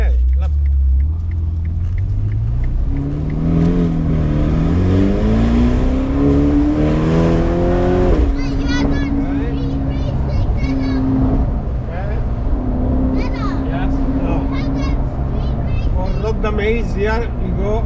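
Ferrari Performante engine while driving on Italian roads, a deep rumble rising in pitch as it accelerates through the gears, then settling to a steady drone, with people talking over it.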